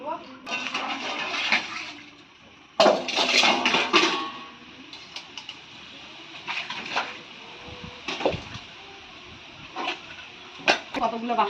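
Metal cooking pots and woks set down on a kitchen floor in a home, several sharp clanks and scrapes spaced irregularly, heard close up while someone talks over them.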